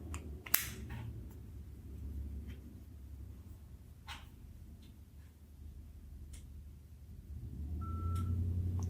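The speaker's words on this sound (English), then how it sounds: "I heard a beep." A Victor Reader Stream 3rd generation audiobook player powers on with a single short, quiet electronic beep near the end, heard over a faint background hum.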